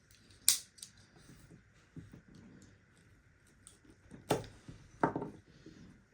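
Shears snip through a tuber stem in a grow room, giving a few sharp, crisp cuts spaced apart, with soft handling rustles in between; quiet and close, with no talking.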